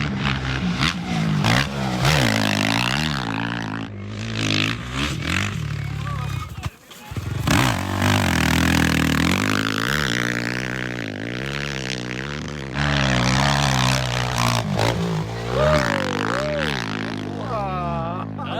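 A 500cc motorcycle rides along with its engine droning and shifting pitch steadily throughout, excited voices talking and cheering loudly over it.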